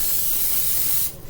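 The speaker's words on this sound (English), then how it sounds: "I'm just gonna use some Pam" Pam cooking spray hisses out in one steady, close burst onto a hot pan for about a second, then cuts off abruptly, with no voices.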